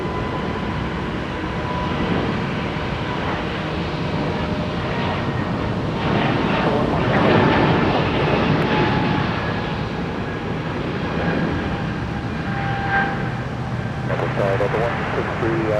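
A Delta airliner takes off from runway 30 Left at Minneapolis–St. Paul Airport, a steady, moderately distant jet roar that builds and holds, under intermittent air traffic control radio chatter.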